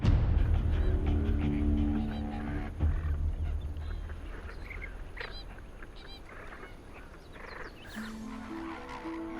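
A huge flock of lesser flamingos gathers at a caustic soda lake, giving off a dense, continuous honking chatter of many birds at moderate distance, with some low rumbling noise underneath.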